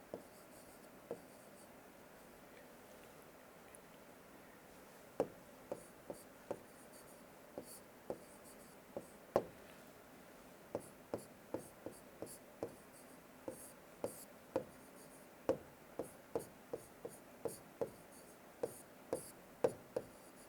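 A pen scratches out a math derivation on paper, sparse at first and then a brisk run of short, regular strokes, close and fairly quiet with no speech.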